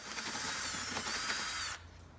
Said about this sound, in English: But first I've got to cut the hole for the dowel